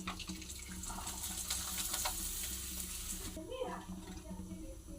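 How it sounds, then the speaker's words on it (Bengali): Papad (poppadoms) frying in hot oil, a steady bright crackling hiss that runs loud and continuous before dropping off toward the end, with a voice speaking over it. "কটা পাঁপড় ভাজি করে নেব।"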